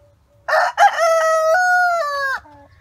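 A homestead rooster crows once, loud and close, a long drawn-out cock-a-doodle-doo with a brief stutter at the start and a falling tail, with quiet around it.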